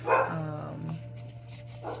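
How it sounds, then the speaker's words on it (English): A dog barks at construction workers outside, a few short sharp barks and yips close by at the start and again near the end, over a steady low hum indoors. "She's barking at the construction workers outside"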